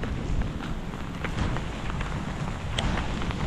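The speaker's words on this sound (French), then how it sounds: "Dès qu'il y a de la pluie, je sors." Heavy rain pours steadily outdoors during a storm in Sidi Bel Abbès, Algeria, a dense unbroken hiss with scattered louder drops and splashes, no voices.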